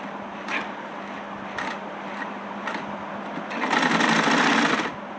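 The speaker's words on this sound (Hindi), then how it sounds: "इसको ना ऐसे सिलाई लगा दीजिए, डबल सिलाई भी कर दीजिए" A household sewing machine stitches a sleeve hem up close, running in short whirring bursts with brief pauses, then speeding into a louder, sustained run near the end.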